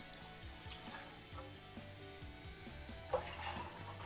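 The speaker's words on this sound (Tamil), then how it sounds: "இப்போ இதில் வந்து நான் 2 கப் வந்து தண்ணி சேர்த்துக்க போகிறேன்." Two cups of water poured into a pot on a stovetop while making turmeric ginger herbal tea, a steady running splash with a brighter burst of pouring near the end.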